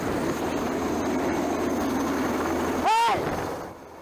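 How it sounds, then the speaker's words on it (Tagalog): A low-flying Chinese Navy helicopter passes close overhead at about 50 feet above the water, a loud steady roar and wash that swells briefly with a sweeping whine near the end before fading. "Tinatayang nasa 50 feet lang ang taas ng nilipad ng helicopter ng Chinese Navy."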